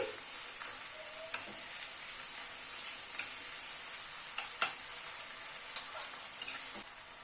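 Onion and garlic paste fries in a pan with a bright, continuous sizzle, punctuated by irregular scrapes and taps of a spatula as it is stirred, close and moderately quiet with no talking.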